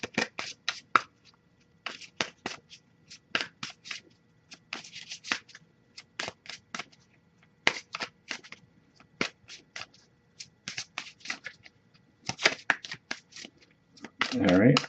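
Crisp riffling bursts of tarot cards being shuffled, repeated in quick irregular runs with short pauses, close up and fairly quiet.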